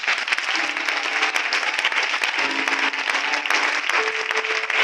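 A church congregation applauds and cheers in praise of God, a dense, continuous burst of clapping with voices mixed in, sustained for several seconds.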